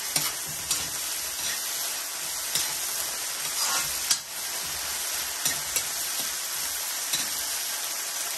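Pancit miki noodles with soy sauce are stirred in a hot pan, giving a steady near sizzle with regular spatula scrapes and taps against the metal.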